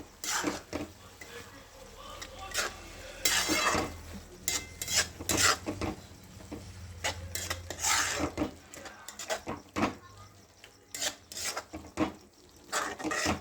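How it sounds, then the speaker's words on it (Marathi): Spring onion greens being stirred in a pan on the stove, with repeated scraping and clinking of a spoon against the pan in irregular bursts, close up and moderately loud, with a faint low hum underneath. "हे बघा मध्ये मध्ये भाजीला हलवत राहायचं"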